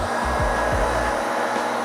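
An air blower roars steadily and close, drying a freshly cleaned porous pavement surface before over-roll maintenance, its hiss cut by a couple of brief low thumps.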